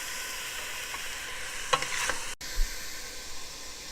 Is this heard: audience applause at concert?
no